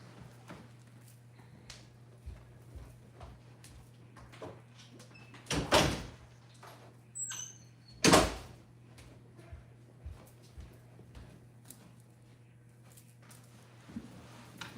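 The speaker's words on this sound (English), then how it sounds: "I'm going to close my door real quick" A door is pushed shut indoors, giving two distinct thuds a few seconds apart over a steady low hum, with faint clicks and small knocks scattered around them.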